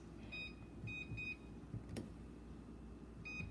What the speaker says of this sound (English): We'll set our little timer for 15 minutes.